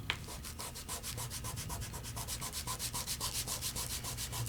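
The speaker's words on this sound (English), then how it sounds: "Close it up, and then I'm going to burnish this one." Silk glitter being burnished onto a metal craft die, a close, steady back-and-forth rubbing that quickens into about twenty rhythmic scrubbing strokes, with no talking.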